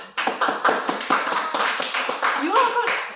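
A few hands clap in a loose, uneven rhythm at a short classroom presentation on the history of tissue paper, with a speaking voice running over the claps.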